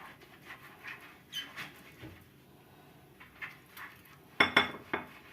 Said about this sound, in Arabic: ونجيب معانا طبق تاني او صاجه هندهنها كويس قوي من الزيت